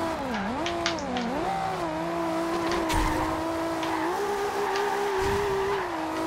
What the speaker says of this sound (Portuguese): Vamos fazendo drift.